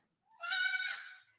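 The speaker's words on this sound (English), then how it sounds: "Here's a baby goat." A baby goat gives one drawn-out, wavering bleat lasting about a second, close and clear against a quiet background.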